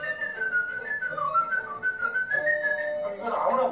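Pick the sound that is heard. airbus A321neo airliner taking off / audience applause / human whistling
human whistling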